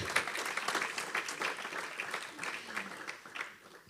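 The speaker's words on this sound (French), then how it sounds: "Je pense qu'on peut les applaudir." Audience applause in a conference room following a talk on building a 149-unit social housing residence in Lyon, steady dense clapping through the whole stretch, fading slightly toward the end.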